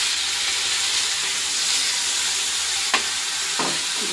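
Tomato and green chilli sizzling on top of onions in a hot pan, a steady loud frying hiss with a couple of scraping stirs near the end.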